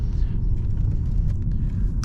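A 2011 Mercedes S550 drives on a wet road, its engine and road noise forming a steady low rumble with faint tire hiss throughout and a brief brighter burst near the end.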